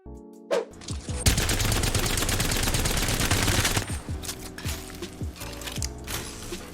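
Havoc energy rifle firing in the video game Apex Legends: a dense, loud sustained burst of rapid automatic shots with mechanical clatter, followed by a few spaced single shots and clicks.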